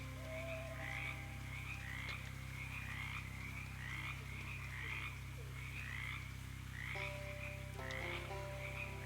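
Frogs croak in a swamp scene from the video game Shadows Over Loathing, a steady rhythmic chorus of repeated croaks over a constant low hum and chiming game tones.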